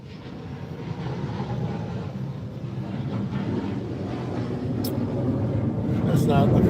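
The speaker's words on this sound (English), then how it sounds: "that's actually an airplane passing over." An airplane passes overhead near an airport, a broad low roar growing steadily louder over several seconds, heard from inside a Tesla.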